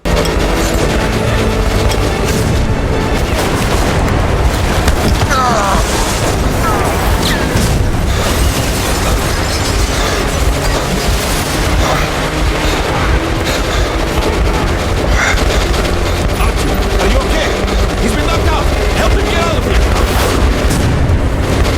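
Loud, dense battle noise in Metro Last Light, with continuous rumbling booms, explosions and gunfire blending into a heavy, unbroken roar throughout.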